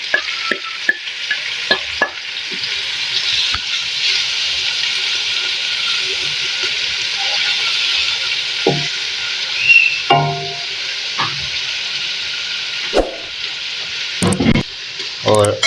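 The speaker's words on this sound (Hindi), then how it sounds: "अब हम एक कढ़ाई में 1 कप ऑयल ले लेंगे, उसमें हम प्याज ऐड करेंगे," Onions sizzle and fry in a cup of oil in a wok, a steady loud hiss broken by scraping stirs and clinks of a utensil against the pan.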